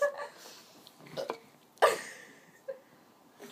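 A person lets out several burps, short bursts scattered across the clip with one louder, fuller belch in the middle, close and alone with no talk.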